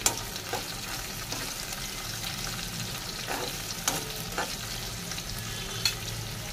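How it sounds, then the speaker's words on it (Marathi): Thin slices of fresh coconut sauté in a pan over a low flame, giving a steady soft sizzle with occasional faint stirring scrapes, close and fairly quiet with no voices. "लो फ्लेमवर छान असं हे परतून घ्यायचं आहे आपल्याला."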